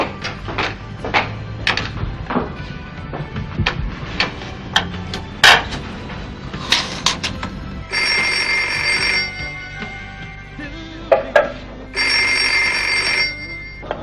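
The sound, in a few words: telephone ringing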